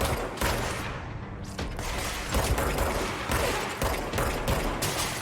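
Rapid bursts of gunfire from shooting enemies in the video game Control crackle steadily and loudly, layered with mechanical clatter and the bursting of struck targets.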